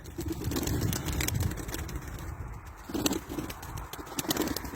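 Egg-laying white pigeons in a loft coo softly and repeatedly in a low murmur, with scattered wing flutters and shuffling close by.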